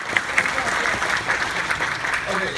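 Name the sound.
audience applause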